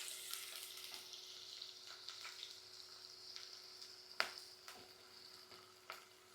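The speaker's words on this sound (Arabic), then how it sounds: "على سمن حيواني بننزل بالبصلة، بصلة وسط مقطعة مكعبات." Diced onion frying in animal ghee for a lentil and pumpkin dish, giving a quiet, steady sizzle with occasional sharp stirring clicks, heard alone without speech.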